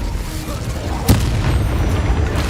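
An Incendio fire spell cast in Hogwarts Legacy, a single sharp burst at the midpoint over a steady low rumble of game ambience.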